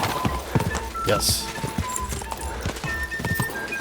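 Rhythmic clip-clop of a horse galloping in Kingdom Come Deliverance 2, the hoofbeats steady and close under excited talk, with a brief whinny partway through.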